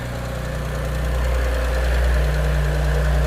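A car engine idles steadily just after starting, close and loud, with a dense low rumble and a faint rhythmic tapping from the valve train at the top of the engine.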